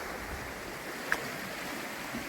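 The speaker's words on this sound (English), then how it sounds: "you can see where that stream funnels down through" A stream of water runs down through a rural Cornwall valley beside a road, giving a steady, broadband rushing wash that stays even throughout, with one brief click partway through.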